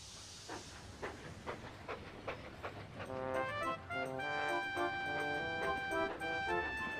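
Steam engine Duncan puffs along the railway, a hissing wash giving way to quick rhythmic chuffs and bright whistle-like tones that keep going steadily, moderately loud and close, with no talking.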